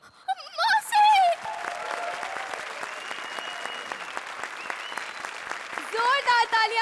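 A studio audience at a Hindi television comedy show claps for a sketch, a dense sustained burst of applause running under a lively voice and music at the start and end.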